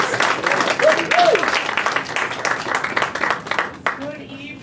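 An audience at a school district session applauds Associate Superintendent Cindy Green, a moderate burst of clapping that thins out toward the end, with voices and cheers mixed in.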